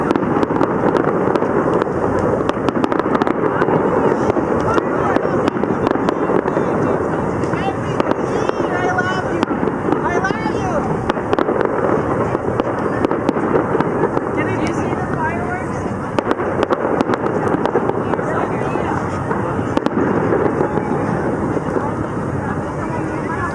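Fireworks burst over a city on New Year's Eve near the city and county building, producing a dense, continuous wash of booms and crackles with wind buffeting the microphone and voices faintly mixed in.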